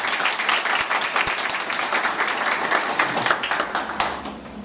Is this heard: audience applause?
yes